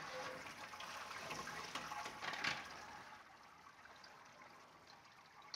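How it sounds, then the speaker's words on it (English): Wort drains out of a lifted malt pipe on a Grainfather G40 brewing system, heard as a steady, close rush of falling liquid. It holds strong for a few seconds, then eases slightly to a continuous splashing trickle. "Let's pull the malt pipe and get on with the boil."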